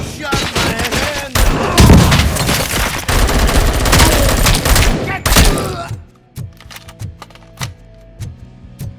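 Heavy gunfire in the video game Robocop: Rogue City, a loud sustained fusillade of rapid shots with thuds for about six seconds, then sparse, sharper isolated shots over a quieter background.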